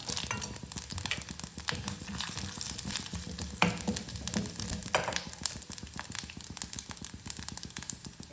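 Cumin, cinnamon, cloves, poppy seeds and cashews fry in a pan for a Chettinad jackfruit kurma, giving a steady close sizzle with crackles and light stirring, no talk.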